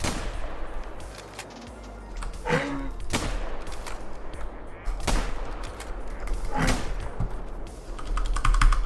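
Rapid video-game gunfire from the speaker's own game, with sharp shots in bursts and clusters standing out over a dense, busy background mix.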